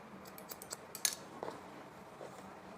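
Hairdressing scissors snip through hair during a haircut, a handful of short crisp metallic cuts in an uneven rhythm, close and quiet in a calm room.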